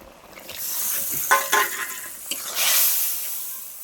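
Chopped tomato and spices fry in oil in a pan for a Bengali bokuli kosha, giving a steady close sizzle with occasional scrapes and clinks from stirring and a hiss as the sizzle rises near the end.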